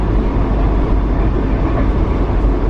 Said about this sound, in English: But we're on the train now,